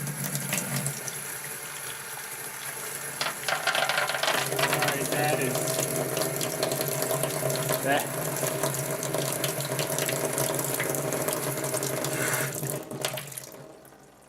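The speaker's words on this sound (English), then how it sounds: "Let's just turn the water on." Water gushes steadily from an outdoor tap in a backyard garden, a continuous hiss and splash holding for most of the stretch before cutting off near the end, with a brief spoken word at the start.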